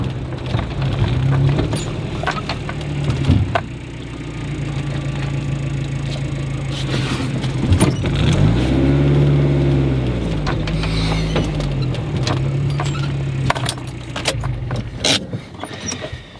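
A car engine idles and revs steadily as the vehicle backs up on a wooded trail road, with a rising and falling engine tone and occasional scraping and thumps, no talking.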